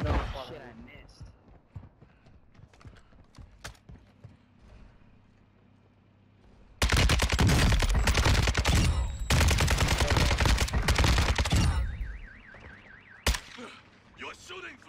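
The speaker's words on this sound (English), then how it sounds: "You're shooting friendlies!" Heavy gunfire in the video game Warzone 2 erupts in loud, dense automatic bursts after a quieter stretch of shouted talk, then breaks off, followed by a single sharp shot.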